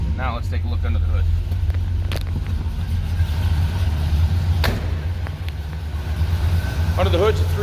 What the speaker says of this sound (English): Under the hood's a 389